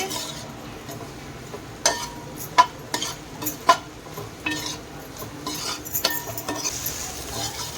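Ingredients for chicken fried rice fry in a pan with a soft sizzle under repeated scraping and clinking of a spoon against metal as they are stirred.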